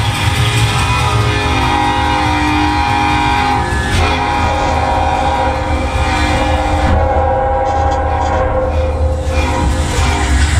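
A long freight train, the Tropicana juice train, rolls through in the Roblox FEC Train Simulator game with a loud, steady, close rumble and clatter that barely changes throughout.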